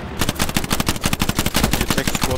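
Rapid automatic gunfire from the World War II shooter game Hell Let Loose, a loud, steady rattle of shots fired in quick succession from start to finish.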